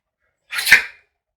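A single short sneeze, loud and close, standing alone against silence.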